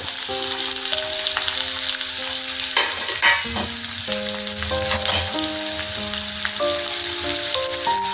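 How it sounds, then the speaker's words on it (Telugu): Mustard seeds, cumin, dried red chillies and thinly sliced onions frying in hot oil, a steady dense sizzle with crackles and pops, a spoon stirring now and then, up close. "ఆయిల్ వేడెక్కిన తర్వాత ఇందులోకి ఆవాలు అలాగే జీలకర్ర ఒక రెండు ఎండుమిర్చి సన్నగా కట్ చేసుకున్నటువంటి ఉల్లిపాయలు కూడా యాడ్ చేసుకున్నాను"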